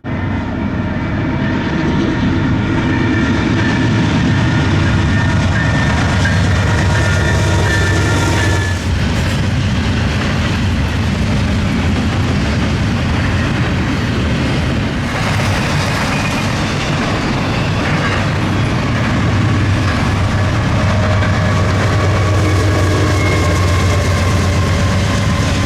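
A Norfolk Southern C6M diesel locomotive hauls a train past at close range. The engine roar and wheel rumble stay loud and continuous, with metallic clatter and squeals layered over a heavy low drone.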